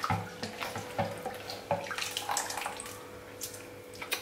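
Water splashes and trickles into a container of pearl millet being readied for grinding, a steady irregular pouring and sloshing sound, close and moderately quiet with no talk.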